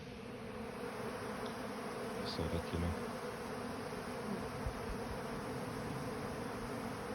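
Honeybees buzz around the hive in a continuous, dense hum with a few individual bees passing nearer, while someone speaks briefly and quietly over it.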